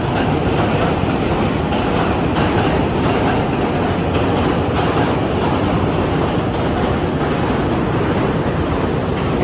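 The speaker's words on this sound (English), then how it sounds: "And the subway actually goes right over the top of it, as you can see." Subway train crossing the steel Manhattan Bridge in New York, a loud continuous roar and rattle of wheels and cars that holds steady throughout.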